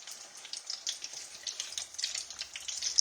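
Food fries in grease in a big skillet with a steady, fairly quiet crackle and sizzle of popping bubbles, alone, with no voice.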